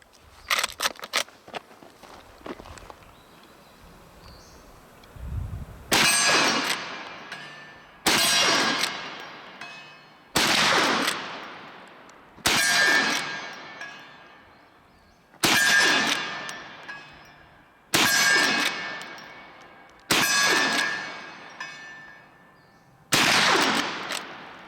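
Eight sharp rifle reports from a Henry Big Boy color case hardened .44 Magnum lever-action crack out at steady intervals of a few seconds, each leaving a ringing decay off steel targets, with fainter clicks and handling noises before the first shot.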